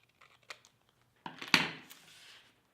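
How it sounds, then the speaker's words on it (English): Scissors snip through a paper photo, trimming along a rounded edge for a wildflower recipe page; a few light clicks, then a louder crisp cut with a short papery rustle, close and alone. "we are going to take our scissors and we will trim along"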